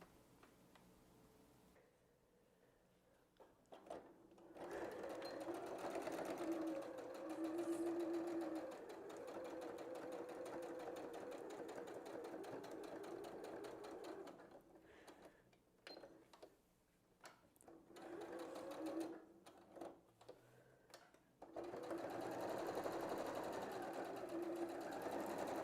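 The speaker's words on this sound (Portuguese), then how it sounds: "a gente vai pespontar com um pé de máquina só essa parte aqui de cima nas duas peças" A sewing machine topstitches fabric bag pieces with a presser foot, running in several long, steady whirring bursts with brief pauses between, close and clear with no talking.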